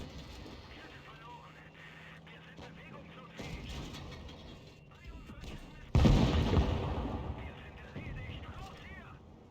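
Tank cannons fire during a video game battle featuring the WZ-121 tank: a muffled boom, then a loud, sharp blast with a long rumbling tail, while people talk over game radio chatter.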